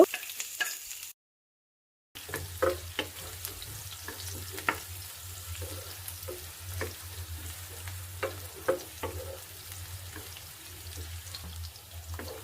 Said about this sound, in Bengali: এবার এতে দিয়ে দিব পেঁয়াজ কুচি, দিয়ে হালকা করে ভেজে নিব